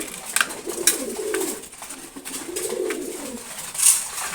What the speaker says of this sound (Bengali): রেসার কবুতর,